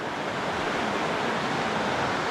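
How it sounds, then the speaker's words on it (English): The Otehake River rushes in a steady, loud, broadband roar from nearby flowing water, continuous with no voices. "down at the Otehake River"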